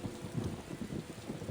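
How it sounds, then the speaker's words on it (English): Thunderstorm in the video game Tales of Xillia 2, with steady rain and rolling rumbles of thunder that swell and fade repeatedly, loud and close, with no talk. "Man, this thunder's pretty intense, huh?"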